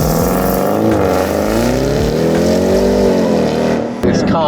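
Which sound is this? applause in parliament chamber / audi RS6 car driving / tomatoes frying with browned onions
audi RS6 car driving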